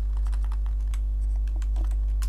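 Rapid keystrokes on a computer keyboard while searching the Microsoft Store on a Windows 11 PC, a quick irregular run of close, crisp clicks over a steady low background hum.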